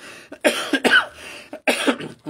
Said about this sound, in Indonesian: Mohon maaf ya, saya lagi batuk ini sudah.